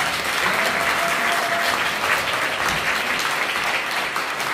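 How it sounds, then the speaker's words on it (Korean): An audience at Yoon Mi-hyang's farewell parliamentary report gathering bursts into dense, sustained applause, a steady broadband roar of many hands clapping at once that holds evenly throughout. "박수 한번 칠까요?"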